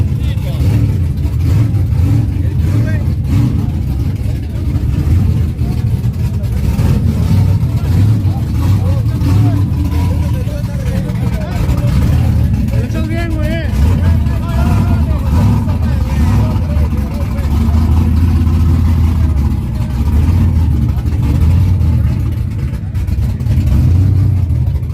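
At a drag strip, a race car engine, one of them a turbo Honda, drones and revs loudly and steadily throughout, while a voice talks over the noise.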